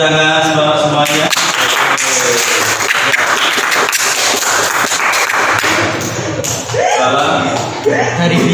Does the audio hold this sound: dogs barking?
no